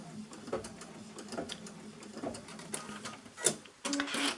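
A sewing machine stitches a few small stitches with a faint, steady rhythmic whirr and soft ticking, and the motor comes on louder near the end.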